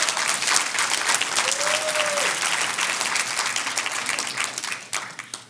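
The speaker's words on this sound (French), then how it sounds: "On peut applaudir." A crowd applauds loudly and steadily for over five seconds, a dense wash of many hands clapping that thins slightly toward the end, with a brief tonal whistle or voice rising out of it early on.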